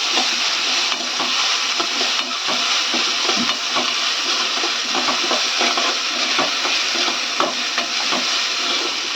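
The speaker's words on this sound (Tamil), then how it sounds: "நல்லா வதக்கி இந்த எண்ணெய் பிரிஞ்சு வருது, நல்லா வதக்கிடுவோம்" Chicken bhurji masala sautéing in oil in a pan, a steady loud sizzle broken by frequent scraping and stirring strokes of a spatula, with no voices.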